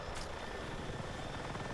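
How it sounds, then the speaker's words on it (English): Rotor chop of a helicopter in the video game Battlefield 6 pulses steadily and evenly for a short stretch, with a brief higher hiss near the start. "Glad you enjoy the helicopter."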